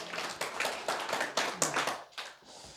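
A church congregation applauding during a sermon, a moderately faint round of hand clapping, fairly sparse and uneven with distinct individual claps, tapering off near the end.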